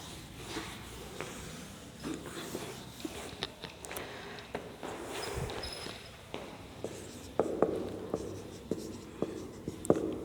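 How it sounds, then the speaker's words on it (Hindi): Pen or chalk writing out an exam question for an economics class, heard as a steady scratching with sharp taps and strokes over about ten seconds, close and fairly faint, with no talking. "फिर मैं लिख देती हूँ क्वेश्चन"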